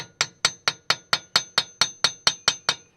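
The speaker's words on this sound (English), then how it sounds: "May have to lightly tap the axle if it's been seized in there a while like this one has." A hammer taps a seized axle on a car to free the spindle, giving eleven sharp metallic strikes in a steady, even rhythm, close and clear with no talking.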